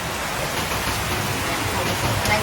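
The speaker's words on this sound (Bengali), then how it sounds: "আর যা বৃষ্টি হচ্ছে এই বৃষ্টিতে মাটিগুলো ঠান্ডা হয়ে যাবে" Steady rain pours down, a dense, loud, even hiss of falling water that stays constant from start to finish, with no voices.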